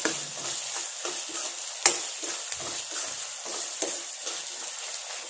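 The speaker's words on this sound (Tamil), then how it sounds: "இஞ்சி பூண்டு வணங்கிடுச்சு" Ginger and garlic sauté in a pan for quail gravy, a steady close sizzle with scattered scraping stirs and one sharper clink of utensil against metal.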